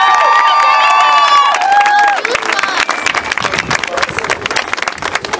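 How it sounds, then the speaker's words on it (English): At a fraternity presentation of a new graduating class, a crowd bursts into cheering, whoops and clapping, with a sustained shout at first settling into steady applause. "Can we get a round of applause, please?"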